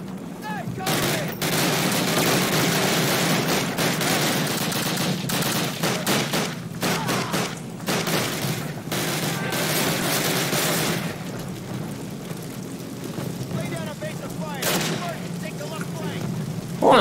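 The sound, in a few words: gunfire in the video game Call of Duty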